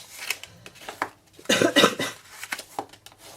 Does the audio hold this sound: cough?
yes